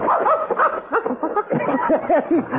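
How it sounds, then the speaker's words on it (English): A dog barks and yips excitedly in a short, close, loud burst of rapid, rhythmic vocalizations, with no talk over it. "Oh, you crazy dog."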